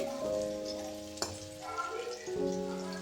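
Slices of teasel gourd shallow-frying in oil in a wok, a steady close sizzle with a brief sharp clatter partway through, no voices over it.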